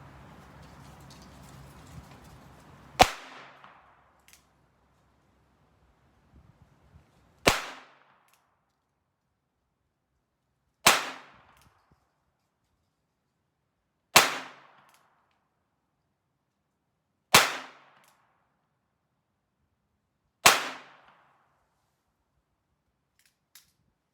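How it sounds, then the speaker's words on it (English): Six single shots from a Ruger Wrangler .22 rimfire single action revolver at an outdoor range, each a sharp crack with a short decay, spaced several seconds apart, after some faint handling noise. "starting off, of course, with the Ruger Wrangler single action revolver"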